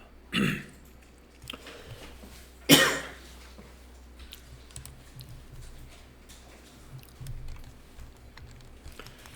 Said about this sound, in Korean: 기침이 나와.